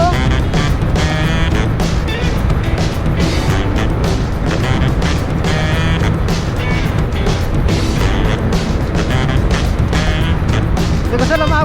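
A Yamaha NMAX V2 scooter with a bolt-on 232cc engine runs at full throttle on a ride to Baguio. Its loud, steady engine drone blends with wind rush throughout, while a rider talks over it.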